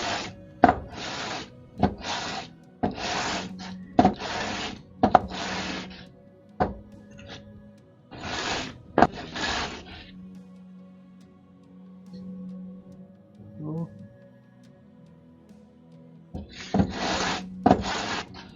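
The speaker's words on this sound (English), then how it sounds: "You just caught me sanding my thick and dark wood here." Thick dark wood sanded by hand in a stack of carved penguins, heard as repeated close rasping strokes in bursts with pauses between, rhythmic and dry, alone without talk.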